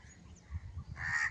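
A crow calls once or twice near a village homestead, its short harsh caw rising over quiet outdoor background noise.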